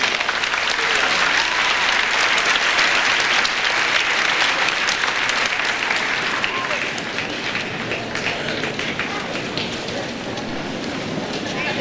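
Steady, dense applause from a large audience at a school awards ceremony honoring eighth graders, loud and continuous throughout with no talking over it.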